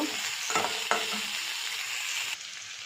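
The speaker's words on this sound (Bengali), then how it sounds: "ওই তেলের মধ্যে আমি ফুলকপিগুলো ভেজে নেব" Cauliflower pieces frying in hot oil give a loud, continuous hiss and crackle close by, with a couple of sharp spatters early on before the sizzle drops slightly near the end.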